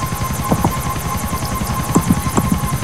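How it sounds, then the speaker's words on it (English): A helicopter flown in a video game, with a loud, steady rotor chop and a high whine running throughout, close and continuous. "Why are they mad at me for just flying a helicopter?"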